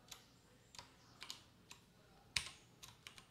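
Quiet typing on a computer keyboard while entering text into a LibreOffice Calc spreadsheet: a handful of soft, scattered key clicks in short bursts against low background hiss.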